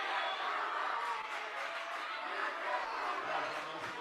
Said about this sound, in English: And this crowd is now irate after that foul call.